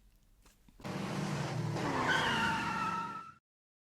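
Small 1:43 scale slot cars whine along a track at race start, a rising electric motor hum with squealing tones that swells after a quiet moment, holds for a couple of seconds, then cuts off abruptly.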